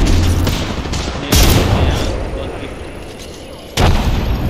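Grenade explosions and gunfire in the battle royale game Apex Legends: two sudden heavy blasts, one early and one late, stand out over continuous distant shooting and a rumbling battlefield wash.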